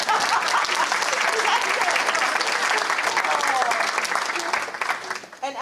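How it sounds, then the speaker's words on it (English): Audience at a university press conference breaking into a sustained round of clapping, dense and loud throughout, tapering near the end, with faint voices mixed in. "You can clap."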